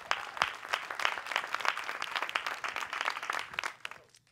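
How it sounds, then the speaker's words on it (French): Audience applause at a gala, a dense patter of many hands clapping steadily at moderate distance for about four seconds before fading away at the end. "On peut les applaudir."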